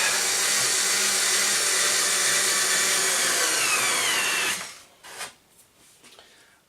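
A power drill whirs steadily and loudly through feather edge timber board for about four and a half seconds, then stops, leaving faint clicks and handling noises.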